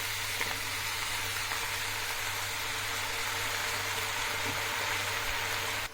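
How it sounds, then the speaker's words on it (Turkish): Dried green beans with tomato sauce sautéing in a pan, giving a steady, close, even sizzle and hiss that runs unbroken for the whole stretch with no voices. "Domates sosunu da ekliyorum. 5 dakika kavuracağım sosu."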